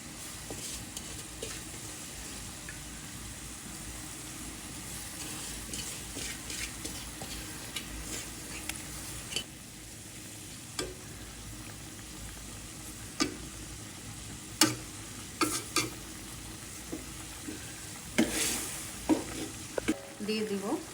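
Tiny kachki fish fry in spices in a pan with a continuous low sizzle, punctuated by scraping, clicking strokes of a spatula stirring, close and fairly quiet throughout.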